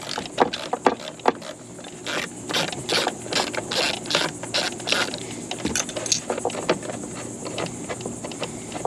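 A ratchet wrench backing out a T50 bolt on a BMW E46 bracket, rapid clicking pawl bursts in repeated strokes, close and fairly loud, with no talking over it.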